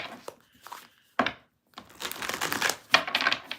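Quick riffling and slapping of a deck of tarot cards being shuffled, in short bursts separated by brief pauses, close and crisp.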